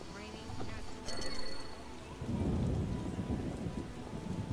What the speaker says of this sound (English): A scourge of the lords, this rain.